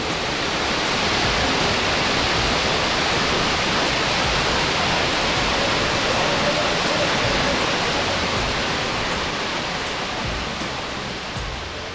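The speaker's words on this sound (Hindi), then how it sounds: "फिर हमें मिला एक ऐसा वाटरफॉल जहां दूर दूर तक कोई भी नहीं था।" A secluded waterfall near Lavasa roars as a constant, dense rush of falling water, full and unbroken, gently easing toward the end.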